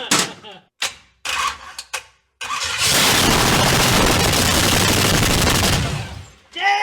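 A 500 hp V8 swapped into a Honda, primed with half gas and half starter fluid, gives a few short sharp bursts, then catches and roars loudly and steadily for several seconds up close before cutting off.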